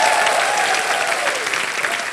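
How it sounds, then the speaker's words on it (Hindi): A TV game show studio audience bursts into sustained applause, a dense wash of clapping that stays loud throughout. "जोरदार तालियां"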